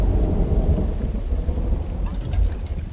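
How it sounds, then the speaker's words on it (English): Rain and thunder in the survival game The Infected: a steady, loud wash of rainfall with deep rumbling underneath, continuous throughout with no talk. "seeing it's raining"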